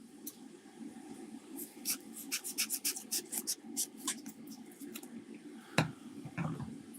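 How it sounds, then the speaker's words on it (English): Quiet, close scratching and rubbing strokes in quick uneven bursts, abrasive paper worked back and forth over a warm Amiga 500 circuit board. "let's just sand it down"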